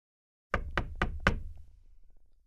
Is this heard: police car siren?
no